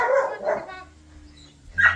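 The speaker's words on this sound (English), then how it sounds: "And of course, you do anything, they all have to bark." Several farm dogs bark in a shop near newly released calves, sharp close barks and yips repeating in quick bursts, loud and up front.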